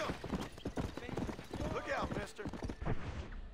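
Horse hooves clip-clop in a steady, even rhythm in the video game Red Dead Redemption, moderately close, with a brief voice-like sound partway through.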